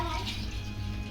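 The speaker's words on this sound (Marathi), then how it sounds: "आणि आपण आता पाणी टाकणार आहोत." Water pours into a pot of chicken curry, a brief steady splashing gush that fills the moment without pause.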